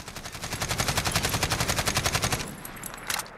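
An AKS-74U rifle without a suppressor in Call of Duty Modern Warfare, a loud rapid burst of full-auto shots in an even rhythm lasting about two and a half seconds, then fading echoes.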